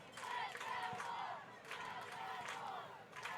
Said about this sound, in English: Crowd getting fired up, getting in the ref's ear real quick